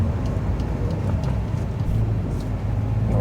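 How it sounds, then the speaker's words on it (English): Hired Fiat 500 driving through a French village, a steady close engine and road hum that holds constant with no talk. "So I'm driving my little Fiat 500 through the village."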